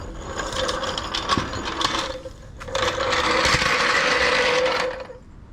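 Ratchet wrench clicking as bumper bolts are tightened during a new bumper install, two steady bursts of rapid close-up ratcheting separated by a brief pause.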